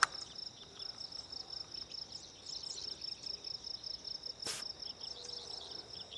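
Insects chirp steadily outdoors by the water during a fishing trip, a high pulsing trill that repeats in a fast even rhythm, soft and constant, with one sharp brief knock partway through.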